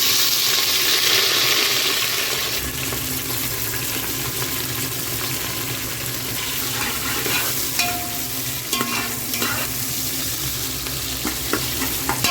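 Onions sauté in a hot pan for vegetable biryani, a steady loud sizzle running throughout with scraping stirs and a few sharp utensil clicks near the end, no voices.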